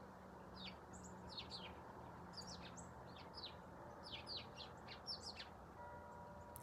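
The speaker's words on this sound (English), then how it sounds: "Hello there, birdies." Small birds outdoors at dawn give scattered high chirps and short tweets, some near and some farther off, over a soft steady background hum.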